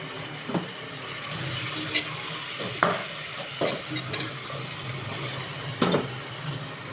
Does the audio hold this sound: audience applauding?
no